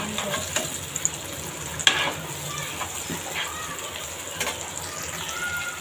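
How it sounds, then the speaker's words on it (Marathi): Tomatoes are stirred into a sizzling pav bhaji mix in a frying pan, with steady frying hiss and occasional spoon scrapes and knocks close by. "तर आपण याच्यामध्ये आता टमॅटो ॲड करूया. तर यालासुद्धा छान प्रकारे आपण मिक्स करून घेऊ."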